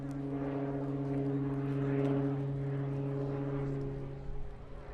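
A military aircraft at an airshow performing a stall manoeuvre, hanging in midair at about 2,500 feet, gives a steady droning engine hum with strong tonal harmonics, continuous and moderately loud throughout, with no talking.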